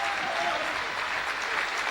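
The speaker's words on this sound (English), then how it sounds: "the crowd are loving this" Crowd applauding at a 1999 Super Series Finals squash match in London, a steady burst of clapping filling the whole moment, fairly distant and hall-like, with no commentary over it.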